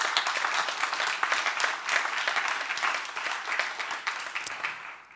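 Sustained audience applause fills a conference hall at a monetary policy event in Vienna, steady dense clapping from many hands throughout, moderately near, with no talking over it.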